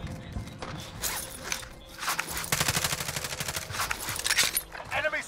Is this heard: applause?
no